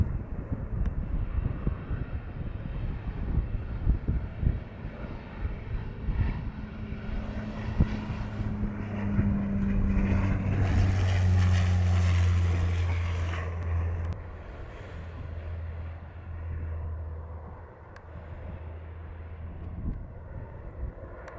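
An airplane, likely an A330, landing on runway 07 at Montego Bay, Jamaica: a steady loud roar of jet engines swelling toward the middle and fading, with wind buffeting the microphone throughout.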